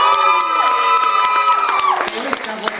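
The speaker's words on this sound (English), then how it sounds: "it sounds like we've got a cheering section out there." A game show audience cheers and whoops loudly and close for a contestant, with excited high-pitched shouts. The cheering swells briefly and then fades into scattered applause-like claps.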